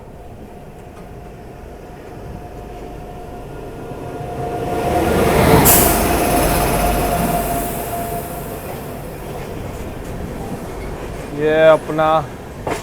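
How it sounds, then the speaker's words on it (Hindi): An oncoming passenger train hauled by a WAG 9 electric locomotive on the Bhusaval–Akola line swells into a broad rushing rumble that peaks midway and fades, heard from aboard a moving train; brief speech comes near the end. "सामने से कोई ट्रेन भी आ रही है, WAG 9 लगा रखा है"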